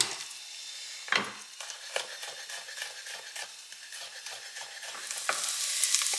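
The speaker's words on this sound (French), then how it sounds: "Je viens faire griller mes oignons sur feu moyen fort." Onions fry in a pan over medium-high heat, a steady close sizzle broken by regular scraping stirs of a utensil against the pan.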